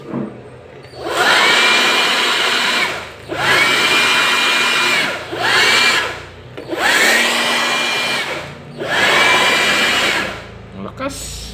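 A Keelat electric blower runs at full power in repeated bursts of about two seconds each, a loud close whining roar that rises and cuts off between runs.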